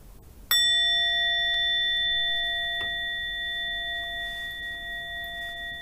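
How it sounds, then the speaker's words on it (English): A single meditation bell struck once, ringing out with a clear bright tone and overtones that sustain and slowly fade over several seconds in a quiet room. "So ring the bell."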